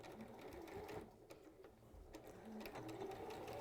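A sewing machine puts a few stitches across the shoulder of a teddy bear, a faint, steady mechanical whir that runs without a break through the whole stretch.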